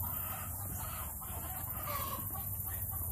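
Farm chickens cluck in a steady, busy chorus, with a rooster-like call rising briefly in the middle, all set against a constant low hum of outdoor background noise.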